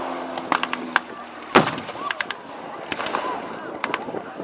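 A pyrotechnic charge bursts against a vehicle during a World War II battle reenactment at a history festival, giving one sharp loud bang amid scattered crackling pops and distant shots, with faint talk in the crowd.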